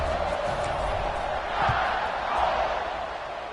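Stadium crowd in College Football 26 during an Old Dominion at Alabama game, a steady broad roar that swells twice around a kickoff, with faint thuds and no speech.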